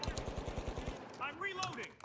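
Rapid automatic gunfire in The Finals video game rattles off about nine close, evenly spaced shots in a quick burst, then gives way to clattering game effects.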